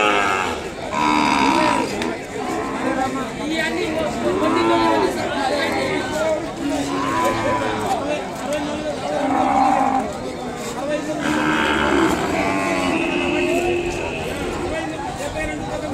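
Young bulls with milk teeth moo repeatedly in long, loud lowing calls at the Kodada cattle market in Telangana, several animals overlapping amid a chattering crowd.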